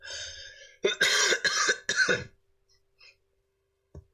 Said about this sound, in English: I have some insane cough